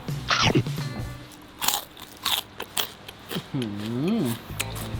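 Bites into crispy fried snakeskin gourami fish give several sharp, close crunches in quick succession, with a voice making short vocal sounds between them.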